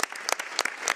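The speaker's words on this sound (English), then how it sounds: "give a round of applause to that." Applause at a session of an intergovernmental committee, a brief burst of distinct sharp claps from several people in a large room.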